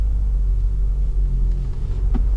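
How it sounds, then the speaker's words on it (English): Low, steady diesel rumble from a 2022 Isuzu Mu-X LS-E 4x2 engine pulling above 2000 RPM, heard from inside the cabin as a continuous deep drone with no talk. "above 2000 RPM, you still hear that very distinct Isuzu diesel grab."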